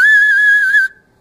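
A handmade clay whistle blown in one steady, clear, loud tone that holds for nearly a second, wavers slightly near the end and then cuts off abruptly.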